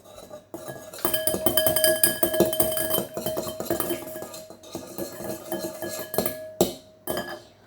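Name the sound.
mixing egg into crêpe batter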